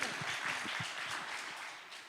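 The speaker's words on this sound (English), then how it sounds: "Big round of applause for Cosette" Audience applause at a creator event in New York, steady dense clapping filling the whole stretch at moderate level, with low murmurs and a few voices underneath.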